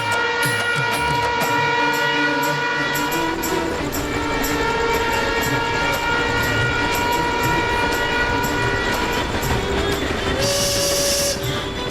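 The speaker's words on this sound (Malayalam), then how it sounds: "നമ്മുടെ തീവണ്ടി ഇവിടെ മൂവ് ചെയ്ത് തുടങ്ങിയിട്ടുണ്ട്" A train starting to move rumbles steadily with a continuous horn-like drone and rhythmic clatter, then a sharp hiss of steam near the end.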